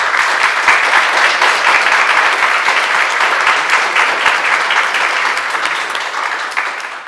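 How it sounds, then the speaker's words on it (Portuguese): Loud, continuous applause at a municipal legislative session in Guaramirim honouring the town's first two women writers, a full room clapping steadily for about seven seconds and fading slightly toward the end, with no voices over it. "na qual eu peço uma grande salva de palmas às duas meninas."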